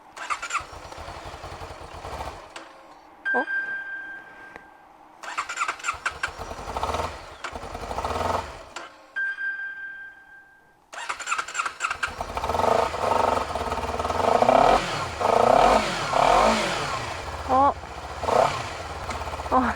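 A 2023 Honda CBR250RR starts up and revs, with sharp bursts of throttle between idle and pauses, then rides off with a loud, climbing engine note and quick gear changes, while a rider's voice speaks over it now and then.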